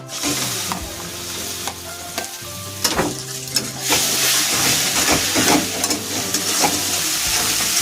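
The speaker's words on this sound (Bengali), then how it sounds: "এখন আমি পেঁয়াজ বাটাটা দিয়ে নেব তেলের মধ্যে" Onion paste sizzling and frying in hot oil in a pan for a Bengali rohu fish poppy-seed curry, a steady loud crackling hiss with occasional stirring scrapes and clatter throughout, no talking.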